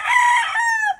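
A Sweater gamefowl rooster crows once, a single loud, close cock-a-doodle-doo that holds strong and then tails off abruptly at the end.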